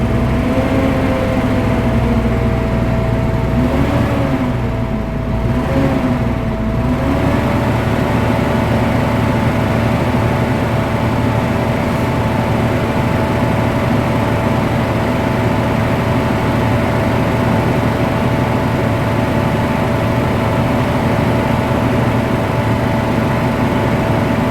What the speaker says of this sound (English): just rev your engine up a little bit, get your air pressure building up a little bit quicker